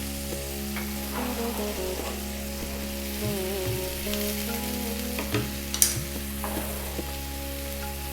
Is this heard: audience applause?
no